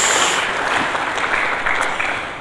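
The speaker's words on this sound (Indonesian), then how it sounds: "Mari kita berikan tepuk tangan bagi Yesus Kristus" Applause from a church congregation, a loud continuous wash of clapping close by, filling the whole short stretch without voices.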